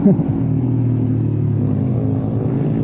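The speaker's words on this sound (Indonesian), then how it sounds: "ini knalpot yang ngebas tapi nggak terlalu berisik" A Suzuki GSX 150 motorcycle with a loud aftermarket exhaust rumbles along while riding, a deep, steady engine drone close to the microphone, holding fairly even for about three seconds with road rumble underneath.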